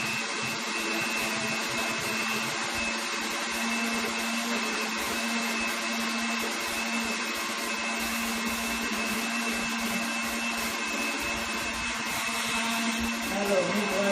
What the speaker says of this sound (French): Alors, nous broyons ça vraiment encore très fort.